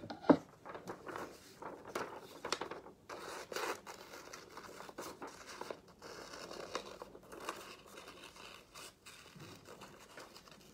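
Scissors cut out a paper circle traced in marker, giving quiet, close snipping and rustling of paper that comes in irregular bursts with no talking.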